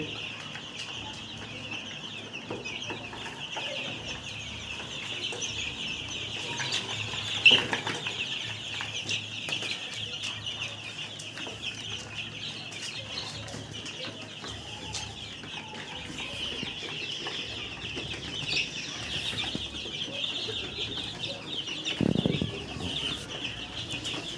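Young chickens of a coal-black breed cluck softly and flap their wings while drinking water together, scattered faint calls and a couple of brief wing bursts over a steady background hum.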